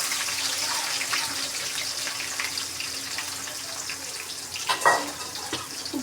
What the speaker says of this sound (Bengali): এখন আমি দিচ্ছি আপনার পেঁয়াজ।